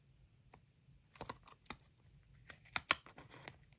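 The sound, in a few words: snips cutting excess pieces of die cut card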